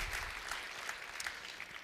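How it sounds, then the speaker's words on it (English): A conference audience gives a short burst of faint, distant applause, a soft continuous patter with no voices over it. "Let's give them a quick round of applause as well"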